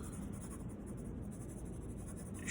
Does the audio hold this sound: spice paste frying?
no